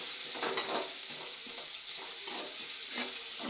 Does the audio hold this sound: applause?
no